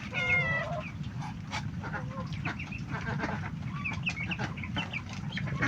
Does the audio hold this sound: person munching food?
no